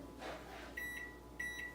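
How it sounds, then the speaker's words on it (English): A microwave oven runs with a low steady hum while melting chocolate, and two short electronic beeps from its panel sound close by over the quiet drone. "Okay, so we're about to go to the microwave."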